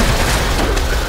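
In a war film set in Afghanistan, an 82 mm mortar round explodes as a loud, dense, rumbling blast that fills the whole brief moment with heavy low-end roar.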